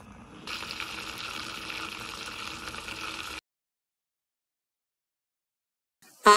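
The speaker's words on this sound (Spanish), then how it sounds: "Ahora pon en la taza leche fresca o tu leche favorita." Fresh milk is poured into a cup for a foamy dalgona coffee, a steady close liquid stream lasting about three seconds before it stops abruptly, followed by silence and a brief sharp clink at the end.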